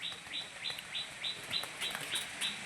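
In a loft of light-eyed pigeons, quick bright chirps repeat in a steady rhythm over a constant hiss and faint rustling. No voices are heard.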